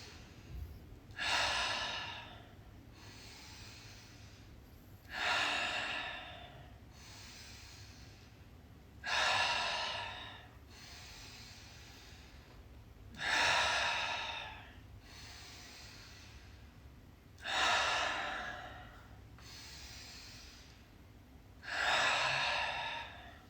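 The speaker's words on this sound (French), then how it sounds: "on va commencer par prendre 10 grandes inspirations, 10 grandes expirations" Slow, deep yoga breaths repeat about every four seconds, each a long airy inhale or exhale rising and fading, six in all, close and alone with no talk.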